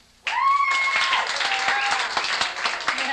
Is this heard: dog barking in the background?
no